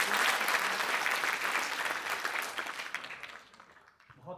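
An audience applauds at a Hindi award ceremony in Delhi, a full dense burst of clapping from many people that holds strong, then thins out and fades to a few scattered claps near the end.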